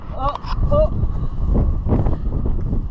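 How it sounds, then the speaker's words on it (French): Strong wind buffets the microphone outdoors in a steady low roar, with people talking over it. "Il y a beaucoup de vent comme vous pouvez l'entendre."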